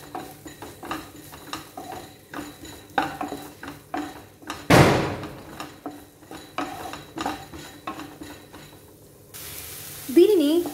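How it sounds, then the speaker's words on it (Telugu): Sliced tomatoes and coriander leaves semi-frying in a pan for a weight-loss soup, soft sizzle under repeated utensil scrapes and clinks, with one louder clatter midway, close by. "సెమీ ఫ్రై చేద్దాం దీన్ని"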